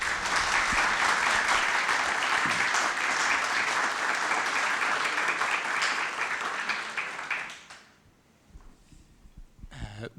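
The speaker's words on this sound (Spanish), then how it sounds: "Les pido un afectuoso, caluroso aplauso para nuestro invitado de hoy, Jordi Canal." Sustained audience applause welcoming a guest speaker at a university lecture on literature and history, loud and dense for about seven seconds before fading into quiet room noise.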